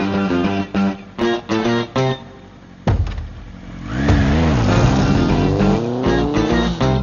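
After a run of short choppy bursts, a motorbike roars to life and revs hard as it rides away, its engine note climbing and sweeping loudly for several seconds.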